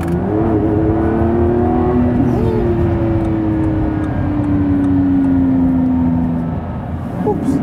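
A Lamborghini Revuelto being driven with its engine still being broken in gives a loud, steady, close revving drone whose pitch sags slowly, then eases off near the end; no one talks.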